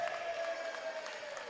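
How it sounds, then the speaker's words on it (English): Steady crowd noise fills a high school basketball gym during a game between Royal Crown School and Crestwood Prep in Crestwood, a continuous lively murmur with light clapping and no clear talk above it. "Lively crowd in Crestwood."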